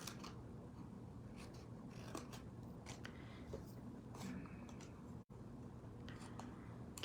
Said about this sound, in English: We need to trim out these little pieces of this down here to make the box easier to fold.